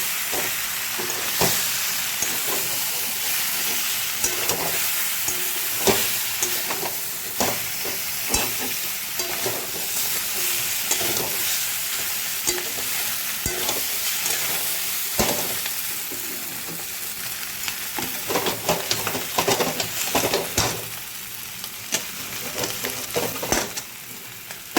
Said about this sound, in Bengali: এবার একটু ওলট পালট করে হালকা হাতে নাড়াচাড়া করে দেবো।